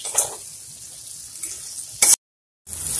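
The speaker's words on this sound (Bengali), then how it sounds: "এরপরে এগুলোকে আমি ব্রাউন করে বা হালকা বাদামি বর্ণ আকারে ভেজে নেবো" Chopped onions fry in oil in a pan until browned, giving a soft, steady sizzling hiss broken by a brief silent gap before the sizzle resumes.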